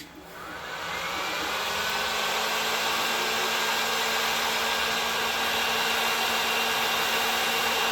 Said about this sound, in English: So I'm about to turn the heat gun on.